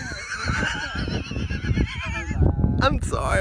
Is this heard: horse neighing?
yes